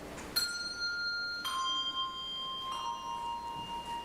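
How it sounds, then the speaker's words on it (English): Three separate bell tones struck about a second apart, each clear and ringing, their sustained overtones overlapping and slowly fading. "ring 3 bells for love."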